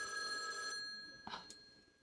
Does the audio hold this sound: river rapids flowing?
no